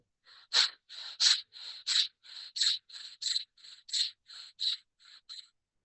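Yogic breathing in a surya bhedana practice session: a quick, even train of about a dozen soft breaths through the nose, each a short airy whoosh, heard close and quiet with no talk.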